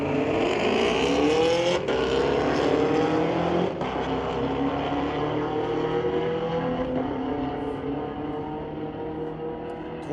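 Drag race of a 2017 Camaro against a 2016 Hellcat at a street-legal night event: loud engines roaring steadily as the cars pull away, pitches sliding upward through gear changes, slowly fading with distance.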